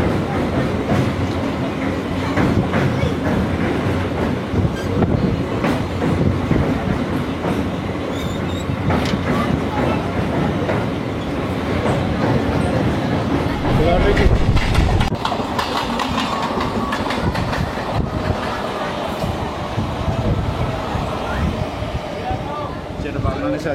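A Digha to Howrah local train runs on its tracks with a steady rumble and clickety-clack that lasts throughout, with passenger chatter mixed in.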